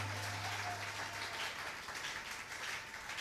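A church congregation applauds together, a dense, even wash of many hands clapping at a distance, steady for the whole few seconds with a faint low hum underneath.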